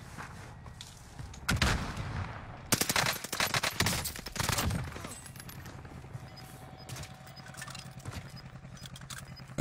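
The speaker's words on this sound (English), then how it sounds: "I don't know why he's shooting that gun." Gunfire from a Warzone match rattles in bursts, with heavy automatic volleys early on and then quieter scattered shots and game effects, moderately close and mixed with background game noise.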